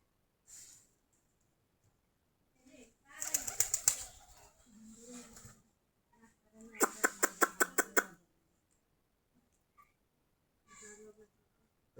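Domestic desi pigeons in a loft of about forty-five pairs give two short bursts of throaty cooing and rapid fluttering, separated by quiet gaps with a few faint softer calls.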